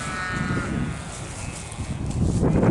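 A sheep near lambing bleats nearby in the UK, a wavering nasal call in the first half, over steady outdoor rustle and low background noise.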